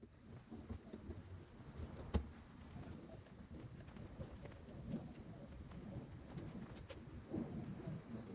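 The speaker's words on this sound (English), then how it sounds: "The rain's really coming down now." Heavy rain pours steadily outdoors during work on a Boston Whale boat's trolling motor mount, with occasional thunder rumbles and a sharp crack near two seconds, while birds call faintly in the background.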